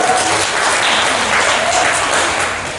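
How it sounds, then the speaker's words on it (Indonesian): Loud, lively applause from a seminar audience honouring a guest, a thick continuous roar of clapping that holds steady and starts to fade near the end. "Tepuk tangan sekali lagi yang meriah untuk Bapak Roy."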